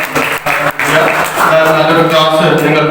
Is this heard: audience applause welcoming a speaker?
yes